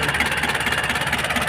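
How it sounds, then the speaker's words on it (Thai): Nissan Big-M red-head BD25 diesel engine idling up close, a loud, steady rumble with a rapid rhythmic knock running through it. "ปนี่นะครับเครื่องยนต์นะนิสสันบิ๊กเอ็มฝาแดงนะครับวันนี้"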